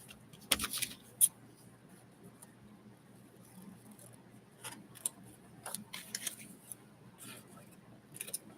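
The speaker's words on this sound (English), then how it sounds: "See, I think I can cut this." Scissors snip through craft material in a few sharp, quiet cuts scattered across a hushed room, with faint rustling between them.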